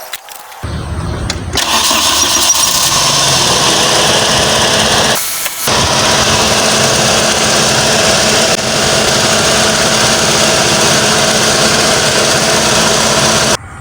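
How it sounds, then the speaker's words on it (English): A car engine cranks and catches after a battery jump starter is connected, then settles into a loud, steady idle that runs on alone with one short dip partway through. "Start your car and disconnect within 30 seconds."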